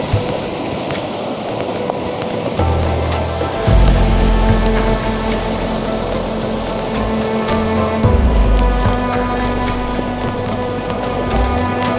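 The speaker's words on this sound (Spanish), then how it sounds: "veo que se está metiendo bastante lluvia" Steady rain falls through an autumn forest, a dense broadband patter on leaves and ground that stays loud and even throughout, with low rumbling swells underneath and no voices.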